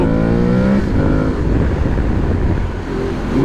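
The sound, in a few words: Aprilia Tuareg 660 motorcycle engine accelerating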